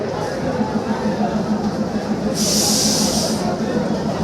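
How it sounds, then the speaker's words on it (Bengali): The Sirajganj Express passenger train rumbles past loudly with a steady roar and a burst of hissing partway through; voices can be heard under the noise. "এটা সিরাজগঞ্জ এক্সপ্রেস"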